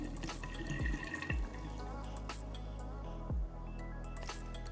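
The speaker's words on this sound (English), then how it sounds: "We're gonna open up the drain valve. I'll start draining the coolant again." Coolant drains from the drain valve of a water-cooled PC, heard as quiet trickling and dripping liquid with a few soft knocks, close and faint.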